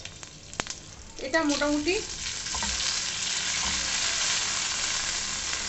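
Chopped ginger and green chilli hit hot oil and break into a bright, steady sizzle after a brief spoken phrase, the frying hiss holding loud and even to the end.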